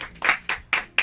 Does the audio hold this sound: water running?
no